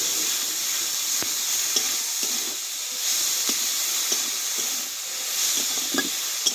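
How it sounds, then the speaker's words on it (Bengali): Spices with salt, turmeric powder and tomato are stir-fried in a pan for jackfruit curry, giving a continuous close hiss and sizzle with soft, irregular scraping taps of stirring; no speech. "এবার দেবো স্বাদ মতো লবণ আর দেবো হলুদ গুঁড়ো এই মশলাটা একসঙ্গে ভালোভাবে কষিয়ে নেবো"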